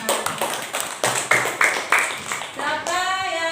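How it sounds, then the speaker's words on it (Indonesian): Children in an elementary school classroom clap in a few short rhythmic bursts, bright and close, ending in a sustained round of applause. "Buat tepuk tangan buat si Fana."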